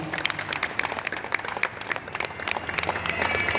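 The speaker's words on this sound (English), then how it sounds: "We get a quick round of applause for Tom." A live audience gives a brief round of applause for Tom Dickson at a Blendtec demonstration in Malaysia, a dense patter of clapping that swells toward the end, with some murmuring underneath.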